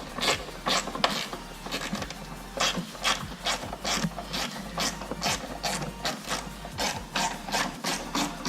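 A ratchet wrench loosening a 10 mm bolt on the intake of a 2016 Mustang GT: quick, steady bursts of close metallic clicking, repeated many times, with no talking.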